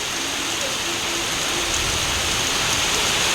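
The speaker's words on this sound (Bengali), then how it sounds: "সেই লেভেলের ঝড় আর বৃষ্টি হচ্ছে, কিছুই তোমাদের সাথে শেয়ার করতে পারবো না, শুধু আওয়াজটাই শুনতে পারবে" Heavy storm rain pours steadily and loudly on a village home during a thunderstorm, a dense unbroken roar of water with no voices.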